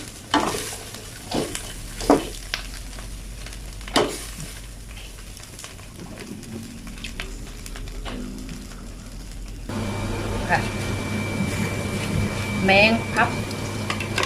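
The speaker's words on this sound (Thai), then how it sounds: "เดี๋ยวคั่วต่ออีกนิดหน่อยจ้ะ" Insects dry-roasted in a pan, stirred with a utensil that scrapes and clatters in sharp bursts over a soft steady sizzle; a voice speaks briefly.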